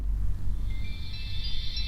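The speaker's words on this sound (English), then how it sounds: "So the turning on sound sounds like this" A Signia hearing aid plays its power-on tune, soft electronic tones that rise in faintly over low background rumble and hold steady toward the end.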